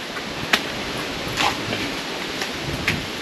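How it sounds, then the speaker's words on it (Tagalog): Rain begins to pour outdoors over an open-air cooking area, a steady hiss of falling water broken by a few louder drops or splashes. "Sana wag lumakas yung ulan"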